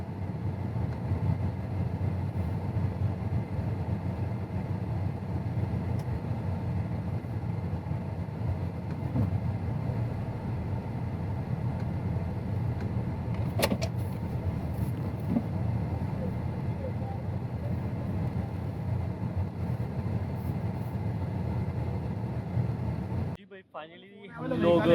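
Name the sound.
car starting and reversing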